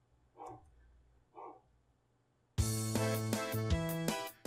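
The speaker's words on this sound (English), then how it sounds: "Oh, I hear barking." A dog barks twice in the distance, two faint separate barks with a pause between, before loud music cuts in and covers everything, in a survival horror video game setting.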